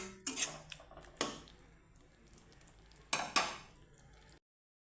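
Spices with turmeric being sautéed in a pan for an okra dish: a few sharp metal spatula scrapes and clinks against the pan, spaced out over a quiet background.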